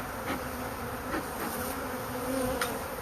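Honeybee swarm buzzing around a hive box during collection, a steady dense hum with individual bees zipping close by now and then, continuous and alone without voices.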